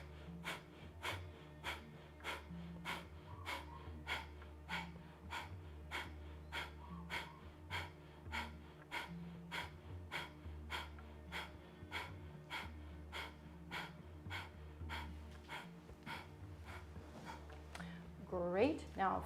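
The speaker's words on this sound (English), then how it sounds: "we'll start with breath of fire" Rapid, rhythmic breath of fire from a kundalini yoga class, with sharp nasal exhales pulsing steadily at about two per second for the whole stretch over a low background hum, ending in a longer inhale.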